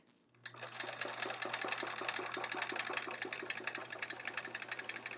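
A sewing machine runs steadily at a fast, even stitching rhythm while quilting scalloped curves along a template, starting abruptly and continuing loud and close without pause.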